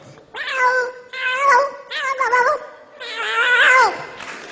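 A man imitates a cat, giving a series of four drawn-out, wavering meows and caterwauls one after another, loud and close, with no other sound around them.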